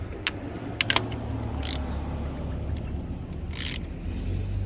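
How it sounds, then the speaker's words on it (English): A wrench works at tight spark plugs on a 1973 Jaguar Series 1 found in a backyard, with a few sharp metallic clicks and ratcheting ticks over a low, steady background hum. "We'll see if we can get those plugs out. See how tight they are."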